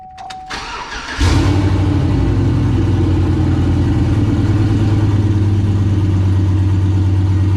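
A turbocharged Chevrolet Yukon XL cranks briefly after a short beep, then catches and roars to life, settling into a loud, steady, close idle that carries on for several seconds.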